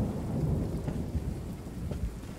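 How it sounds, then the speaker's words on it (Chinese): Rain pours steadily outside while low thunder rumbles through it, a dense, continuous wash of sound with no voices, heard from indoors in a period costume drama. "外面下雨"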